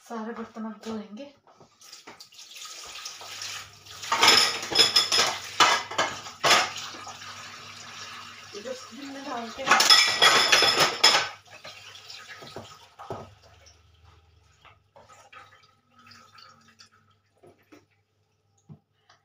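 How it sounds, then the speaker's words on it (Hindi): Dishes and cutlery being washed under a running kitchen tap, with two loud bursts of rushing water and clinking utensils between quieter stretches of dripping and handling, and a voice heard briefly. "सारे बर्तन अब धोएंगे।"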